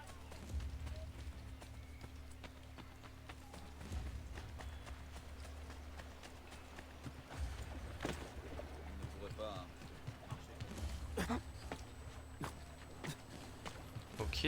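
Horse hooves clip-clop in Assassin's Creed Brotherhood, a rhythmic trotting beat under a low game drone, with someone speaking French over it at times.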